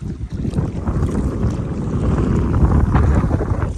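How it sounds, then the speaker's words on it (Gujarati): Strong wind roars and buffets the microphone continuously, a loud low rumble with gusts swelling toward the end. "બહુ પવન છે એટલે મેર પડે નહીં."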